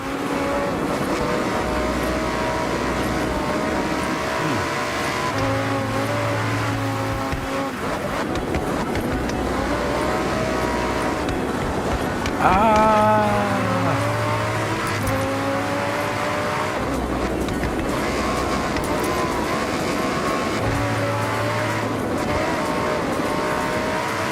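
Lamborghini Huracan Sterrato on all-terrain tires driving down a mountain road, its engine droning loud and steady throughout, with rising and falling revs around gear changes and a brief surge midway.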